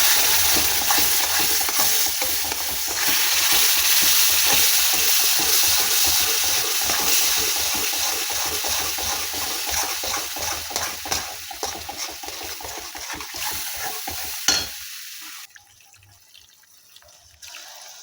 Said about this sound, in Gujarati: આ રીતે ધીરે ધીરે ઉમેરવાનું છે, એક હાથે ઉમેરતા જવાનું છે ને એક હાથે ચલાવતા જવાનું છે।